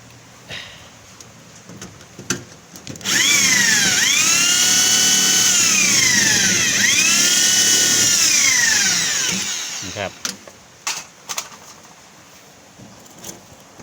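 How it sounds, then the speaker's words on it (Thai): A power drill driving screws into a galvanized sheet patch on a washing machine, with a loud whine that rises and dips in several pulses over about seven seconds, framed by clanks and knocks of handling before and after. "ต้องยิงเยอะๆนะครับ ในคลิปนี้เรายิงน้อยนะครับ น็อตเรายิงน้อยน้อย"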